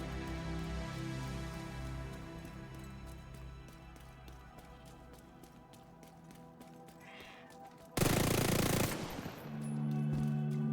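A light machine gun in The Division fires rapid, evenly spaced automatic rounds, fairly faint and steady for several seconds, before a sudden loud burst of noise near the end.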